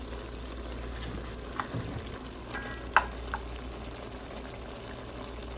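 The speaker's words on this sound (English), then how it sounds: "Let the butter melt." Butter melts and sizzles in a pan with chicken and tomatoes for butter chicken, giving a low, steady frying hiss with a few soft stirring clinks and one sharper utensil tap.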